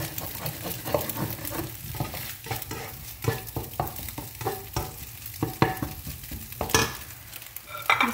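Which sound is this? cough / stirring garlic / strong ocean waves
stirring garlic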